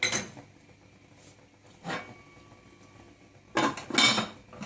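A metal lid set onto a pot of shrimp and rice, giving a couple of sharp clanks and clinks, one short knock followed a moment later by a louder, clattering cluster, with quiet stillness in between.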